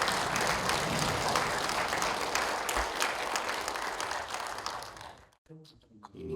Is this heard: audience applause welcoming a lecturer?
yes